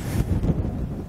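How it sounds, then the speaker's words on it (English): Heavy wind buffets the microphone in low, rumbling gusts on a boat anchored in a very windy bay, a brief stretch of roaring air with no voices. "Because there's a lot of wind, huh?"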